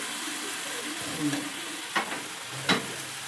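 A ladle stirring food in a sizzling pan, steady frying hiss close by with three short scraping strokes spread across the moment.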